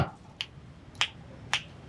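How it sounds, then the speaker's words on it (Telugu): Three crisp finger snaps, sharp and close, evenly spaced about half a second apart against a quiet room background, with no talking over them. "చిటికి లేస్తా."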